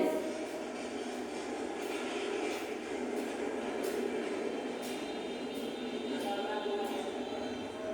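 A train at a railway station produces a steady broad rumble with faint repeated clicks of wheels over rail joints, continuous and moderately distant throughout.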